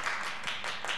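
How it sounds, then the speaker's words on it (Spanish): Clapping for the first-place winner of an altar contest at a Día de los Muertos event, a short patter of hands from a small group, fairly quiet and even with slight swells, no talk over it. "Vamos a darle un gran fuerte aplauso a Flavio Márquez y a su familia."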